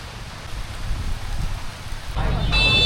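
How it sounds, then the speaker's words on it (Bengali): Steady rain patters softly at first, then swells louder and closer near the end as the downpour thickens. "বৃষ্টি পড়তেছে"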